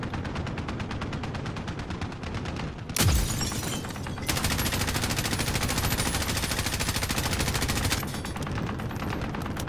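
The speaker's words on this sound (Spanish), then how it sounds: "Me encargo de la ametralladora." Machine gun fire from a turret mounted on a truck in the video game Warzone: loud, continuous rapid bursts with a sharp break and brief blast partway, then sustained fire resumes and runs to the end.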